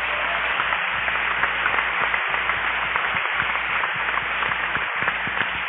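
A church congregation in Veracruz, Mexico applauding together, with dense, steady clapping that fills the space evenly and continues without a break for several seconds.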